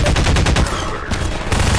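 Rapid automatic gunfire from a weapon in the video game Half-Life 2, a loud sustained burst of closely spaced shots with a brief dip midway before the firing resumes.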